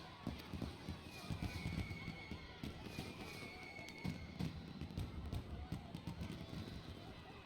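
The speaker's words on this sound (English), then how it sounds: "Fireworks!" Fireworks bursting in a Final Fantasy XIV game scene, a dense run of booms and crackles with whistling rockets streaking upward, fairly loud and continuous over low ambient sound.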